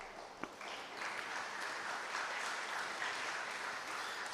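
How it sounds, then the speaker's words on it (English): An audience applauds after a poetry reading, with steady, dense clapping from a crowd that lasts throughout. A single sharp clap stands out near the start. "people clap in spite of themselves"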